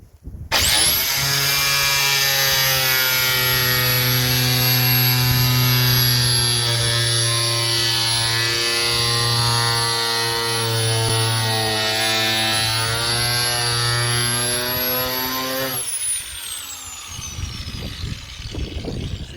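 A corded Mastercraft mini grinder with a cutting disc whines at high speed through a steady cut for about fifteen seconds, loud and close, then spins down.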